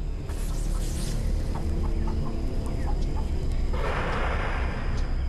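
Chickens in a henhouse cluck in scattered short calls under a steady low rumble, with a burst of rushing noise near the end.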